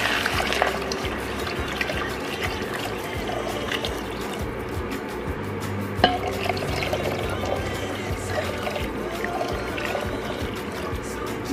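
Water pours into a soup pot of crab and corn soup with crab stick, a steady continuous splashing fill running several seconds at moderate level under a noisy kitchen background.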